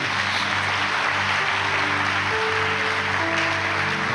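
A church congregation applauds during a Spanish-language sermon, a sustained wash of clapping with sustained musical tones running beneath it throughout.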